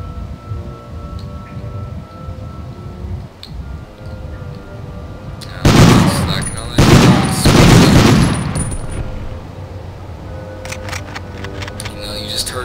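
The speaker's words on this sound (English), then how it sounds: "Gunshots down the hallway." Bursts of loud gunfire in the video game Medal of Honor erupt in the middle, rapid shots in two clusters down a hallway, over a low rumbling background with quieter sounds before and after.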